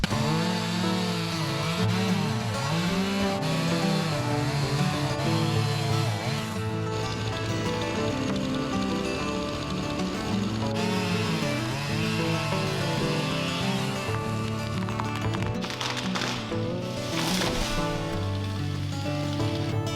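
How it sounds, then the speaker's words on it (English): A chainsaw is cutting while trees are felled for firewood. The engine drones loudly and continuously, with its pitch rising and falling as the saw bites and revs. "I might as well fell them now, get them cut up into firewood."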